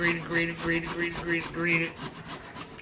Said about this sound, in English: All you have to do, man, is just take a grater to this